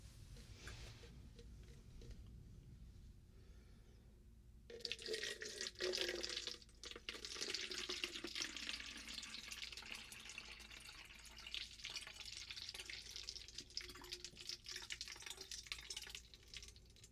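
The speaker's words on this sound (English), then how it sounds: "Let's pour a little back into the measuring cup." Liquid poured into a measuring cup at close range, a soft steady trickle and splash that starts abruptly midway and continues with small fluctuations, with quiet handling before it.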